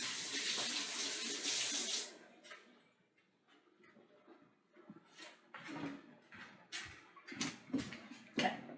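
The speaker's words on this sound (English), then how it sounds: "I'm washing my hands again." Tap water runs steadily for about two seconds as hands are washed at a home kitchen sink, then cuts off, leaving faint splashes, drips and handling clatter close by.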